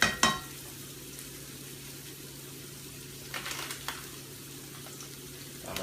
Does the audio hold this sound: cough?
no